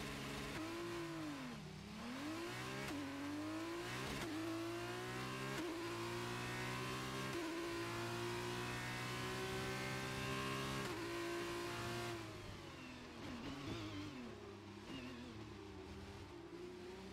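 F2 race cars launch from the start of a sprint race in F1 23 with several engines revving and climbing in pitch together, a sustained steady roar close up, dipping briefly as gears shift.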